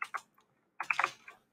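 Typing on a computer keyboard during a coding session: a few quick, close clicks of keys in short bursts, separated by a brief pause, with no talking.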